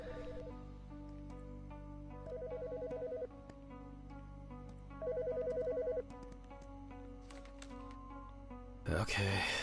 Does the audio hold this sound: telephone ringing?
yes